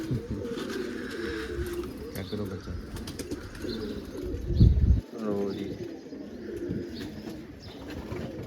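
Pigeons coo softly amid a busy outdoor scene, with people talking nearby and a brief flurry of noise midway.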